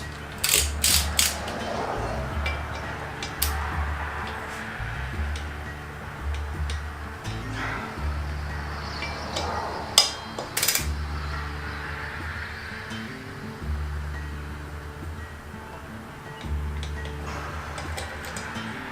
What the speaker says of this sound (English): Now I'll go to my torque wrench. I got it set to 14 pounds.